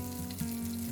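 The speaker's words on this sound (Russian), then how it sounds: "Обжариваем с другой стороны до готовности" Chicken pieces sizzle steadily in a frying pan, a close, constant crackling hiss with a faint low electrical hum beneath and one small pop.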